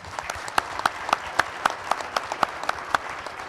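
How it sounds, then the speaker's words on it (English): A small audience at a parish forum for sheriff and city marshal candidates gives a brief round of applause, with distinct, fairly sparse claps rising and falling over a few seconds. "Could we please give them a round of applause?"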